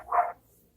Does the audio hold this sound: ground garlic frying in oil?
no